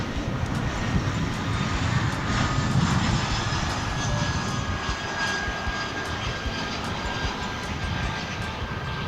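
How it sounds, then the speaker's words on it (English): An Airbus A321 jet lands at DFW International Airport, its engines roaring in a broad, steady wash of noise that holds at a moderate distance for several seconds. "That A321 just landed"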